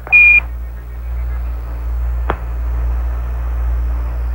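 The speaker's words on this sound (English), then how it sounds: "Give us a reading on the 1202 program alarm." An Apollo lunar module 1202 program alarm gives one short, clear electronic beep at the start, then a steady radio hiss and hum with a faint click partway through.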